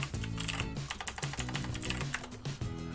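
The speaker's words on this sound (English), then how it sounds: "when you are part of a town, you can actually type in the chat" Close computer keyboard typing into Minecraft chat: quick clusters of crisp key clicks in an uneven rhythm, with soft background music or tones underneath.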